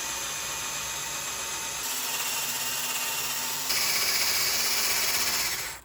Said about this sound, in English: Starting with a wire wheel attachment on my drill, I'm just going to go around the outside face